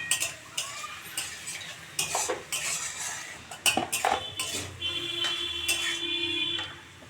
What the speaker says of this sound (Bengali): তারপর নেড়ে নিব।